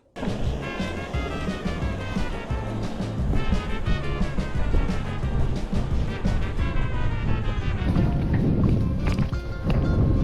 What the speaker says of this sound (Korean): 날씨가 미쳤나 이거 바람 붑니다 바람